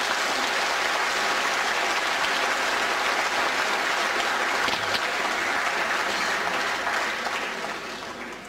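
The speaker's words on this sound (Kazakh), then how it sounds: "11-ші түлектерді тағы да қол шапалақтап қарсы алып қойыңыздар." An audience at a 2004 school graduation ceremony in Astana applauds the graduates with loud, sustained clapping that carries on for several seconds before tapering off at the end.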